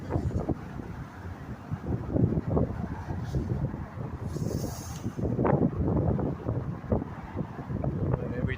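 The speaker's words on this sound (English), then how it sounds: "The wind is no joke." Strong wind buffeting the microphone outdoors in a steady low rumble, with gusts swelling and fading throughout.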